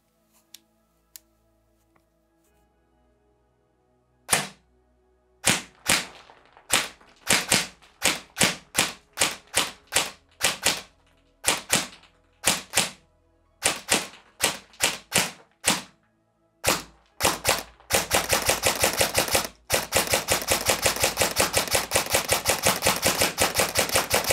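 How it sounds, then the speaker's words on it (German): VFC/Umarex HK M110 A1 airsoft electric rifle firing 6mm BBs: a run of sharp single shots at uneven intervals, then a fast continuous burst of rapid fire, close and loud. "Also geben wir mal ein paar Schüsse ab"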